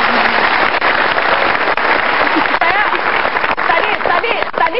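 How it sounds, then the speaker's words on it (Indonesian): A television talk-show studio audience claps continuously, a dense, steady wash of applause lasting several seconds. "Kita kasih tepuk tangan untuk Lia."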